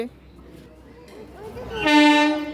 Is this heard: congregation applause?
no